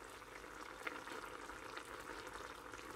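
A covered pot of ash plantain curry bubbles and simmers steadily with a soft, continuous gurgling hiss, close by and fairly quiet.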